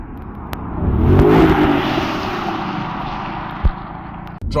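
A Mercedes-Benz CLS55 AMG with a supercharged engine accelerating, a loud deep surge that swells and then holds a strong roar, followed by a couple of sharp thumps near the end.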